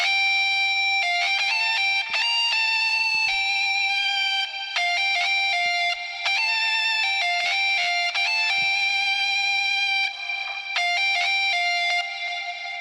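Metal guitar loop from the Ample Metal Hellraiser plugin, its pitch bent by modulation, plays as bright sustained distorted chords changing in short bursts, loud and continuous with no talking.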